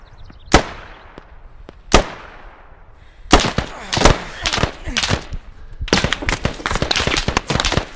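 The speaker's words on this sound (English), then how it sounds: "Shots fired" Gunfire in a video game: two sharp isolated shots several seconds apart, then faster irregular volleys of loud cracks from close range, with voices faintly underneath.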